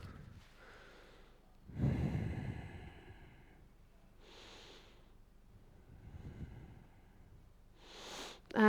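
Deep, audible breaths during a yoga hip opener, slow drawn inhales and long exhales rising and fading over several seconds, close and breathy with no talking.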